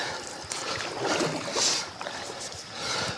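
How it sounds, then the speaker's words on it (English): Fast paddling of a boat held back by a towing rope: rushing, splashing water strokes in quick succession, loud and close with wind buffeting the microphone. "Fast paddling."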